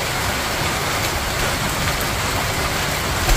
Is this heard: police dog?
no